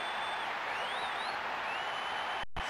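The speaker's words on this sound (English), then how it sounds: "The crowd wait to offer them a red-hot welcome" A stadium crowd in the football game PES 2021 keeps up a dense, steady roar of cheering throughout, cutting out abruptly for a moment just before the end.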